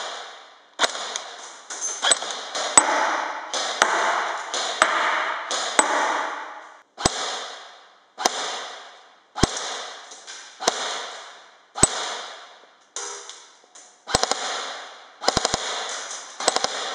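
A G&G GR4 CQBR airsoft M4 clamped in a vise fires on semi-auto. A string of sharp, crisp cracks comes in single shots and quick clusters, each with a short mechanical ringing tail, close and loud with no talking.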